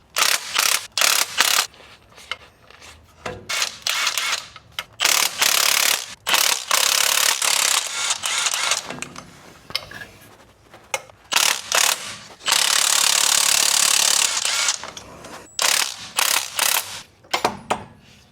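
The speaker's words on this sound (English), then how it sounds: "I'm gonna kick this off by taking off those T50 bolts on the T-case." A ratchet spins out T50 Torx bolts on a Jeep Gladiator or Wrangler JT/JL transfer case, using a short extension and swivel: loud, close bursts of rapid clicking, repeated in several runs with brief pauses.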